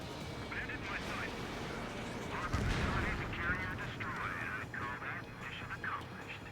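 Heavy gunfire and explosions rain down on a harbor in a flight combat video game, a steady rumbling roar broken by a deep thud, with radio voices chattering over it.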